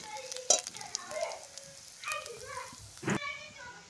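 Tomato dropped into hot oil while cooking a mourola fish and lentil dish, soft scattered sizzling and crackle with a few sharp utensil knocks, fairly quiet and close.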